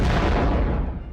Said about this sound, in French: on peut faire des grosses explosions.